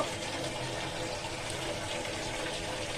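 A little water poured into a curry of hilish bhuna and chicken, a steady close splashing, gushing pour running throughout the short stretch.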